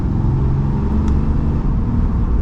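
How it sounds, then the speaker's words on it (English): A 2023 Ram 2500 Rebel Heavy Duty diesel truck with 850 pound-feet of torque pulls away under gentle acceleration, giving a loud, steady low rumble heard from inside the cab. "So we are setting off now in the Ram 2500, giving it a little bit of acceleration."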